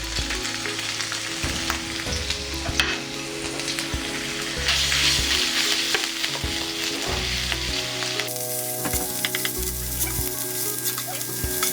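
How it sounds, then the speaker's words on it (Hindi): A loud, steady sizzle of ginger garlic paste frying in hot oil, with occasional stirring scrapes and clinks from a pan close by. "यहाँ पे 1 टेबलस्पून मैंने अदरक लहसुन का पेस्ट लिया, ऑयल में ऐड कर देते हैं।"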